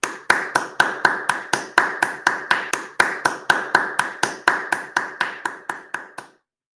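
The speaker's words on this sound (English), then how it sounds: "I'm going to clap." Steady, evenly spaced hand claps, about twenty in a row, sound close and crisp at a regular rhythm before stopping.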